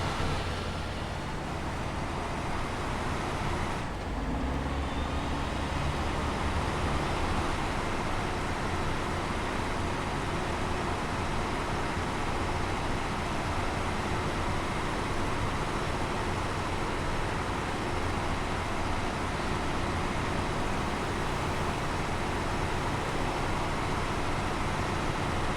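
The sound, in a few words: slow truck driving in a video game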